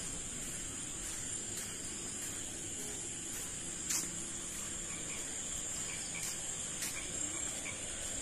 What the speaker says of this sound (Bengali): ছোট ব্যাঙ এটা।